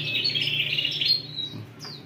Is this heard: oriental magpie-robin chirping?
yes